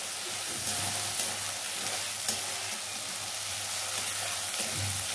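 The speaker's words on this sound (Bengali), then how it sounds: "একটু লাল লাল করব, বাদামি কালার করে ভেজে নেব" Food frying in a pan until browned, with a steady close sizzle and hiss running throughout and occasional stirring scrapes, no voices.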